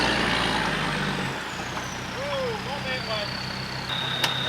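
A truck creeps around the edge of a muddy washout after torrential rain, its engine rumbling low and steady at close range, easing off partway through as a voice talks over it.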